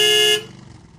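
A cartoon car horn blares in one short, loud, bright honk lasting about a third of a second, then cuts off into faint background hum.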